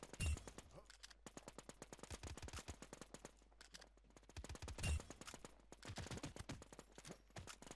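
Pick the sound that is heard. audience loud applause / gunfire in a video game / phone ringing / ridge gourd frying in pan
gunfire in a video game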